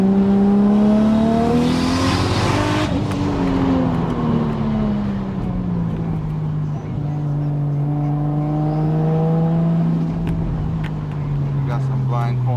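A 600-horsepower Toyota Aristo sedan with a swapped 2JZ engine accelerates on winding back roads. Its engine note climbs, dips as it shifts, then climbs again, loud and close throughout.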